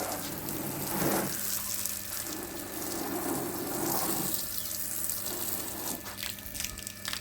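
Water splashing and gushing over a mud-caked car during a hand wash, a steady broad rush with surges and dips, close and continuous, with no talk.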